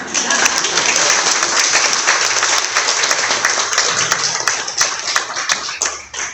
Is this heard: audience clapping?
yes